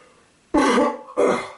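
Two short, harsh coughs close to the microphone, the second following about half a second after the first, with near silence before them.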